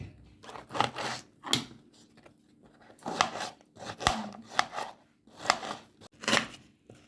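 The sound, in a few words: chopping ridge gourd into small pieces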